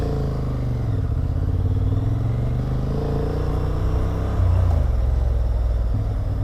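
Honda Hornet 755cc motorcycle engine running close up under way, a continuous low throbbing rumble that swells slightly in the latter part.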